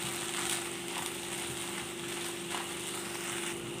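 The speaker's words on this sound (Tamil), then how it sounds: "நல்லா ஸ்லோவில் வச்சு வதக்குங்க" Tomatoes and onions sauté slowly in a pan, giving a steady, soft sizzle with faint stirring scrapes and a constant low hum under it, with no talking.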